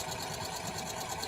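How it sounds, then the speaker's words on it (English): A home sewing machine stitches fabric for a patchwork pillow cover, a steady close whirring hum that runs evenly and alone for a brief stretch. "We got to get her to take her sewing machine out again."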